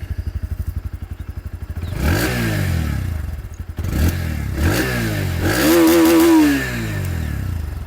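A Bajaj Pulsar NS160 motorcycle with an underbelly exhaust idles with a rapid low putter, then is revved several times in rising and falling bursts, loud and close, with no speech over it.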